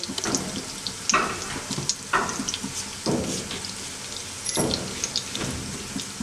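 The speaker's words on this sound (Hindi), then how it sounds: "शैलो फ्राई करेंगे इन्हें, ज़्यादा फ्राई नहीं करेंगे" Leftover cooked dal snacks shallow frying in a pan produce a close, continuous sizzle, broken about once a second by bursts of spattering and scraping as the pieces are moved.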